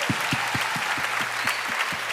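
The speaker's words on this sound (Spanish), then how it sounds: "fuerte el aplauso para todos ellos." Applause from a concert audience at a live show in a theatre, a fairly quiet, steady patter with a few louder individual claps recurring at a regular rhythm.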